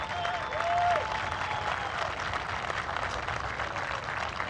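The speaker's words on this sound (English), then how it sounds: "Please join me in thanking Orlando Jackson with a round of applause" Crowd applause during a ceremony at a university football game, a sustained, even wash of clapping from many people, fairly distant, with a faint tone briefly over it and no talking.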